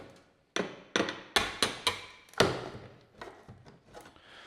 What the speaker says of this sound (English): Once again, with our hammer and our putty knife.